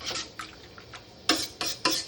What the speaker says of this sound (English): All right, time for a good stir.